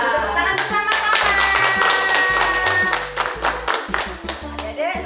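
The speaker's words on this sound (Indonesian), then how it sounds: "Tepuk tangan bersama-sama." A group claps hands together in a quick, even rhythm at a children's Sunday school service, with bright, close, steady claps running the whole time over a faint voice and background music.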